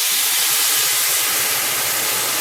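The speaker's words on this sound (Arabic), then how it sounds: "ومن بعد ما تشحر الرز في الزيت غادي نخوي عليه" Water poured onto rice frying in oil in a pot, a loud steady hissing sizzle that fills the short moment on its own.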